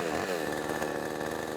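Chainsaw slicing a branch of dead wood into a plank for a sculptor, a steady loud close engine whine running without a break from start to finish.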